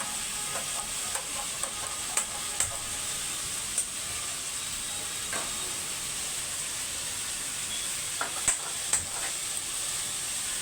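Vegetables for pav bhaji being stirred in a pan with a spatula, soft intermittent scraping clicks over a constant sizzling hiss, close and fairly quiet with no talking.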